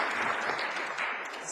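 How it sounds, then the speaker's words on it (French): An audience applauds for a historian from the National Assembly at a youth democracy tournament final, a steady, dense wash of clapping filling the whole moment without pause. "On peut l'applaudir."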